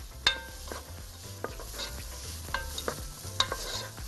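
Onion softening in hot oil in a pot before ghee is added, a quiet ongoing sizzle with occasional soft scrapes and clinks of a spoon stirring, no voices.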